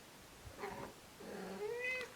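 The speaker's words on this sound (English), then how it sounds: "And my cat's come back." A house cat lets out two drawn-out meows close by, the second longer and rising, in a quiet room.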